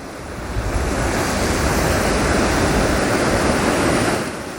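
Ocean surf washes in a steady, continuous roar with some wind noise on the microphone, loud and unbroken throughout with no speech.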